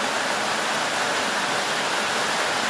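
Heavy downpour in a farm field, a dense, constant hiss of rain steady throughout with no voices.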